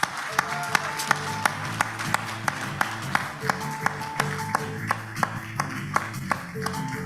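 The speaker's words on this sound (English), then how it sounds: "a warm round of applause as she comes up to give her keynote address" A crowd at an entrepreneurship policy dialogue applauds a government minister coming up to give her keynote, steady clapping under sharp rhythmic taps and musical tones, with a moderately loud, continuous texture.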